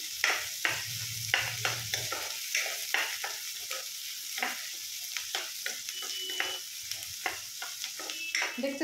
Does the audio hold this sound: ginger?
yes